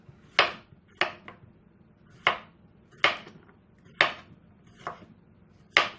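Knife slicing food on a raised cutting board, seven distinct sharp chops spaced roughly a second apart, close and clear with no voices.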